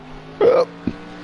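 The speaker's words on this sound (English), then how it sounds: "Pardon me, that was a hiccup." A single sharp hiccup from a commentator during a Project Cars 2 GT3 race broadcast, a brief voiced squeak near the microphone followed by a faint short catch, over a quiet background hum.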